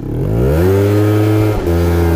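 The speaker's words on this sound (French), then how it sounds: "Je vais faire une accélération, puis je vais couper là" A scooter engine revs up loudly and steadily at night, pitch climbing, then briefly drops before settling into a high, sustained drone.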